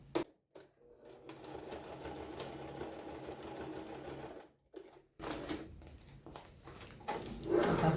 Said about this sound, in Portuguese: Passem uma costura, só para ele não sair do lugar